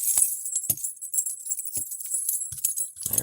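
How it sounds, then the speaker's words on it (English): Metal keys jangle and clink in a few sharp, close bursts while locks are being unlocked, with a faint high hiss underneath. "Let me get a key to unlock these."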